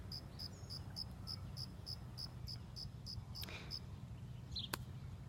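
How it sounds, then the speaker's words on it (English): Crickets chirp in a steady, repeating pulse of short high bursts outdoors, set over a constant low rumble of background noise, with a couple of brief sharp ticks near the end. "Little crickets chirping their song."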